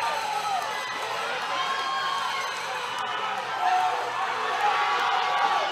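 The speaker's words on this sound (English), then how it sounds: "This is the most insane crowd I have ever seen." A large crowd roars and cheers at a powerlifting world championship, a dense sustained wall of shouting and whooping that swells slightly toward the end, with voices calling out among it.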